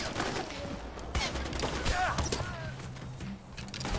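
Gunshots ring out in Far Cry 4 as a rapid spatter of shots and combat noise, fairly faint and steady under the game's background sound throughout.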